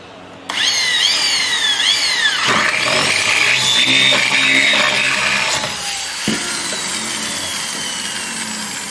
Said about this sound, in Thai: ทำการเจาะอีกรูนึง